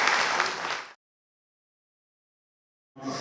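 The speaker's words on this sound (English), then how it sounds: "Give her a massive round of applause." Applause from a talent show audience at a mela bursts out loudly for about a second, then stops dead into silence before a fresh wave of clapping starts at the end.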